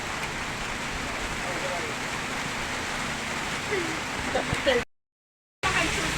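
Steady rain falls in a dense, even hiss, with a brief dropout near the end before the downpour resumes.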